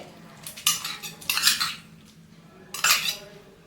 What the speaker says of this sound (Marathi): आता ह्या बाउलमध्ये आपल्याला हे स्वीट कॉर्न टाकून घ्यायचे आहे